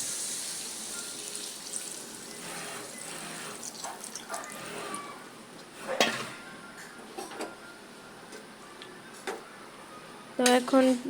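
Water is poured into a pot of potato and egg curry after the spices have been fried, a continuous close splashing with faint utensil clinks and a brief clatter near the end.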